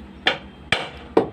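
Three light, sharp hammer taps land at an even pace as a bike tyre is knocked onto its rim, close by and with no talking.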